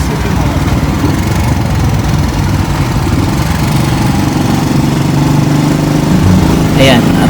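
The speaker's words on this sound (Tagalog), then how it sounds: "ramdam na ramdam mo yung balansingan ng makina ng motor" A TVS TMX 155 motorcycle engine running steadily at idle with a constant mid-pitched drone, loud and close, needing a valve clearance adjustment, with a brief higher whine near the end.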